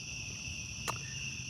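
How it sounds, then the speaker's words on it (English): Crickets chirp continuously in a backyard, a steady high-pitched trilling drone with a single brief tap partway through, fairly quiet overall. "Still more crickets, just does not end."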